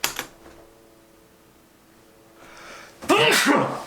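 A single loud sneeze bursts out near the end after a quiet stretch, preceded by a brief click at the start.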